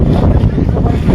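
Strong sea wind near Cox's Bazar buffets the microphone with loud, close, low rumbling gusts that cover everything in a brief burst.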